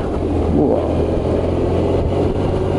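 A 24-year-old BMW R1100RT touring motorcycle engine drones steadily at cruising speed, loud and close, with wind rush over it and no pauses.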